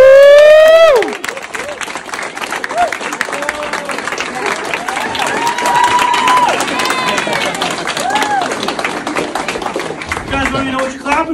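A brief vocal whoop opens the moment, then an audience at a military unit ceremony breaks into loud, sustained clapping with scattered cheers and shouts over the steady applause.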